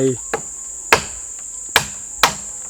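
Wooden pegs hammered into a tree trunk to make a climbing ladder, outdoors with a steady insect drone: four sharp, separate knocks at an irregular pace, each a crisp percussive strike standing out clearly against the background.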